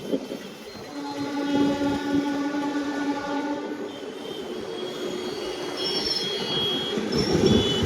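Passenger train running on tracks near Koppal, Gadag and Hubli in India, a steady rolling rumble with drawn-out wheel squeal tones and a faint horn-like whine, continuous and fairly close throughout.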